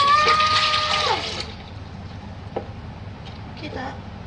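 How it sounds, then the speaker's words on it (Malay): Water is poured into the rear tank of a home coffee machine, a steady trickling splash that runs loud for about a second and a half, then fades into quiet room sounds with a few small knocks. "Bubuh air."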